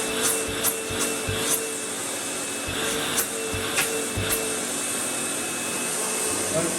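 A Sanitaire EON QuietClean S5000A commercial upright vacuum cleaner runs steadily close by with a constant whine, while a few rubbing and bumping strokes occur as it moves over the floor.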